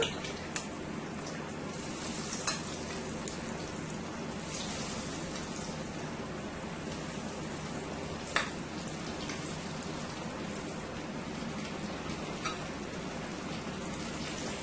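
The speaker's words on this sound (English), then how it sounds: "I am going to go ahead and start frying my shrimp" Steady, dense crackling hiss of shrimp frying in hot oil, continuous throughout with a few sharper pops standing out.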